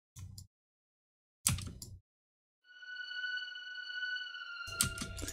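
Short synth hits cut in and out, then a sustained bright tone rings with a long reverberant tail before more punchy notes return.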